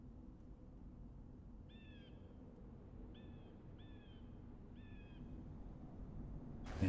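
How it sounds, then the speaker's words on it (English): Birds call outdoors in four short, faint, harmonic cries spread over several seconds, distant above a steady low background rumble. "I hear the birds."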